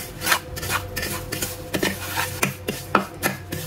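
A spoon scrapes and rubs around a bowl while vinegar, chili sauce and hot sauce are mixed, giving about a dozen close, quiet, irregular strokes with no talking.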